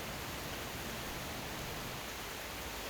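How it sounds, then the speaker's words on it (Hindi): Heavy rain pouring down in a steady, dense hiss that fills the whole stretch without pause, loud and even, with no voices or other distinct sounds. "बारिश बहुत तेज हो रही है।"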